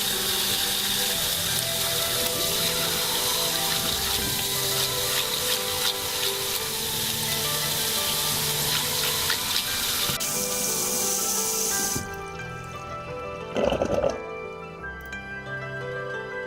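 Tap water runs steadily into a sink while fresh mackerel is washed under it, a dense continuous splashing that cuts off abruptly near the end, leaving quieter handling noises and a brief clatter.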